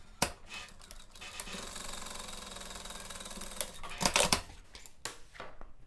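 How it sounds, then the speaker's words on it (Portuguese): A sewing machine runs a decorative topstitch along a tote bag pocket, a steady close whirring that lasts a few seconds, then breaks off into clatter and rustling as the fabric is handled. "eu vou passar uma costurinha de pesponto, uma costurinha mais decorativa"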